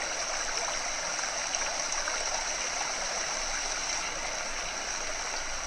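Flood water runs steadily through a drainage ditch, a continuous broadband rush and gurgle of moving water at an even level from start to finish, with no voices.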